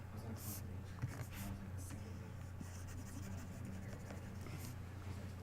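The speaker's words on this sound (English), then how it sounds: "I should erase this over here." An eraser wiping marks off a board during an algebra lesson on hyperbolas, heard as a few short, breathy scrubbing swipes in the first two seconds, then lighter rubbing, all over a steady low room hum.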